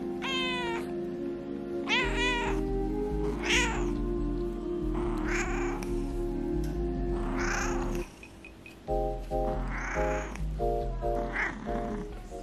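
A pet cat meows repeatedly indoors at home, drawn-out plaintive calls coming every second or two, fairly close, over a steady low hum with occasional light background sounds.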